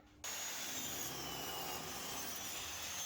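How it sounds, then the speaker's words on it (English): A saw cuts a 45-degree angle into the edge of a skirting board, starting abruptly and then running as a continuous close, dense cutting noise. "All we need to do is cut a 45-degree angle on the edge of our skirting board"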